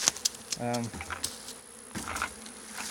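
Close, brief buzzing from a honey bee swarm, with a few scattered faint buzzes and rustles around it, fairly quiet overall.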